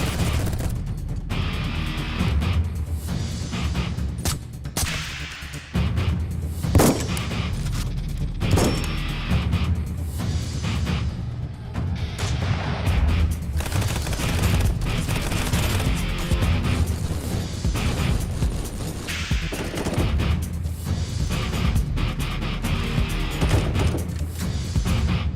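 Dense, continuous gunfire and explosions from Contractors, a team-based competitive multiplayer VR shooter: rapid bursts, single shots and booms layered over each other throughout, loud and relentless with no talking.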